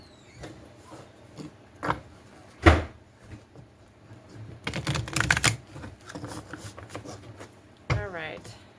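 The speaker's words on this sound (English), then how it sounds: "Let's give it a good shuffle." Soft papery riffling and slapping of large tarot cards being shuffled, in several short bursts with a denser flurry in the middle, close by.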